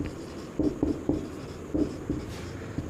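Chalk or marker writing on a board in a Sanskrit class, a string of short scratchy strokes in uneven bursts, close and clear against a quiet room with no talking.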